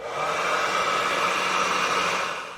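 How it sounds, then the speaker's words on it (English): A hot air gun blows steadily as it heats an aluminium pipe on a Skoda Fabia Mk1 near the fuel tank, making a loud, continuous broadband whoosh that runs the whole time and tapers slightly at the end, with no talking. "I'm using a hot air gun"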